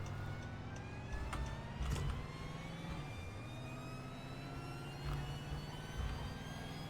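A DeLorean in the Roblox game Greenville drives along with a steady engine drone, topped by a thin, rising supercharger whine that climbs in pitch as it accelerates. There are a couple of brief louder swells.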